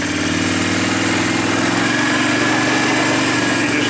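A 2008 Can-Am 500 HO EFI ATV being ridden around a yard, its engine putting out a loud, continuous buzzing drone with a steady pulsing rhythm, close to the microphone.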